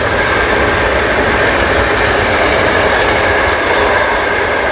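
A freight train loaded with supermarket goods rolls past on a rail line beside the Worcester & Birmingham Canal, a loud, steady rumble with continuous wheel clatter that fills the whole stretch without a break.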